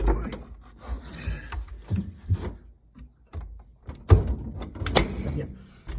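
A washing machine door swings shut with a firm knock amid other handling noises, while a person speaks nearby.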